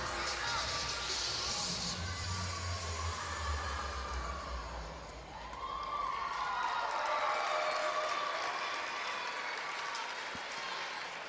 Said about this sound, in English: Her teammates cheering her on to the finish here.